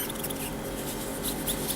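Neon phosphor pigment powder being rubbed onto a nail over a Grab It base coat gives a dense, high, scratchy squeaking that runs without a break, close and fairly loud.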